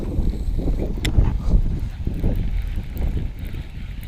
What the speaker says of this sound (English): It's a really, really windy day. Wind is blowing like crazy.